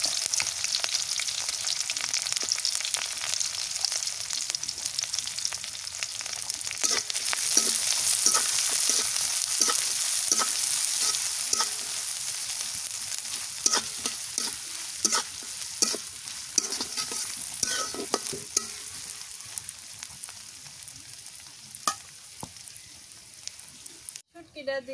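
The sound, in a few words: chopped onion and green chili frying in oil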